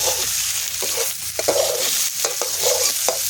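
Onions sizzle loudly in a pan with oil and water. A utensil scrapes and clicks against the pan as they are stirred, and the frying hiss stays steady and close the whole time.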